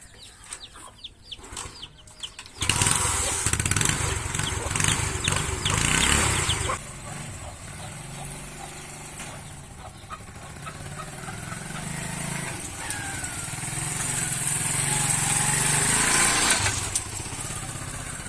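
A motorcycle engine runs steadily and loudly while the bike is ridden, starting a few seconds in and droning on with rising and falling revs, with no talking over it.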